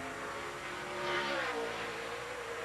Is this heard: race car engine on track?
yes